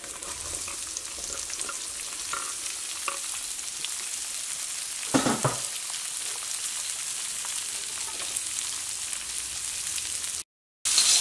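Onions and green chillies fry in a pan for pickle, giving a steady, close sizzle with occasional stirring scrapes, before a brief cut to silence near the end.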